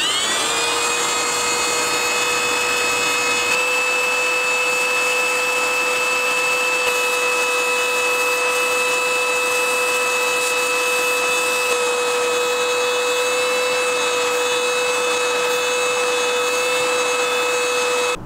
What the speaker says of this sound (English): grab my vacuum cleaner, turn it on, and start vacuuming as much off as possible